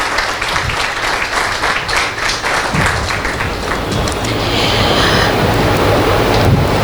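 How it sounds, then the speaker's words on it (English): Audience applause at an award ceremony, a dense steady wash of clapping that holds through the whole stretch and swells slightly louder near the end. "Give a round of applause, please."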